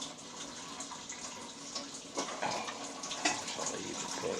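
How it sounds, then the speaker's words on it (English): Water runs from a tap in a continuous splashing, gurgling rush that grows a little louder and busier partway through, heard close and alone without speech. "I'm going to find out who's running that water and ask them to turn it off so that you can hear me"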